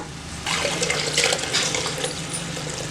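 Mutton cooking water poured into a pressure cooker for a large batch of biryani, a steady close splashing stream running for a few seconds.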